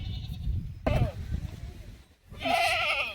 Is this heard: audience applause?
no